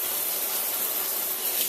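Hydroluxe full-chrome shower head spraying water in massage mode, a steady, dense, close hiss of spray that runs without a break from start to end.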